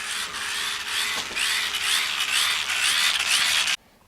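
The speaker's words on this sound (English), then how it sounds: "I gotta wind up my flashlight" A wind-up flashlight being cranked by hand, a continuous close ratcheting whir with a regular pulsing rhythm, loud and steady for several seconds before stopping abruptly.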